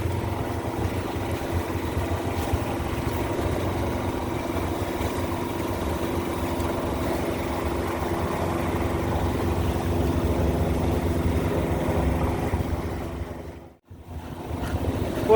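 A sailboat's engine runs at 75% throttle, about 2700 rpm, under way at 6 knots near Galiano Island, a steady low hum mixed with wind and water noise before a brief dip near the end.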